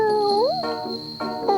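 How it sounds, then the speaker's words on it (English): A cat's drawn-out, sleepy meowing call rises and falls in a few wavering tones, close and fairly soft over a faint steady whine. "Sounds like another sleepy cat."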